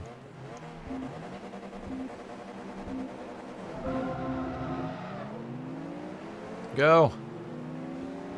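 Race cars in the Forza Motorsport 2 Castrol 300HP Invitational rev and accelerate off the start line, engine tones climbing under a voice, with a sharp rising whine near the end as one car pulls away.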